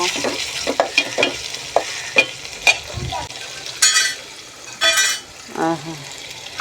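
Biryani ingredients frying in a pot are stirred with repeated sharp scrapes and clinks over a steady sizzle, close and moderately loud.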